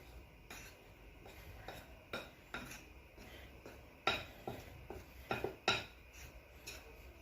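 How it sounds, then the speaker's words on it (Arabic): A spoon scrapes and clinks against a metal pot while chicken, potato and cheese are stirred together, with irregular close knocks and scrapes growing livelier toward the end, no voices. "نحركو المكونات مع بعضياتها كيف كتشوفوا."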